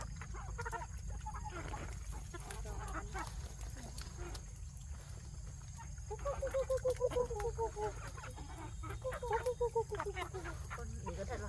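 Chickens at a family home cluck in short, close bursts that grow busier toward the end, over a steady low hum while people talk nearby.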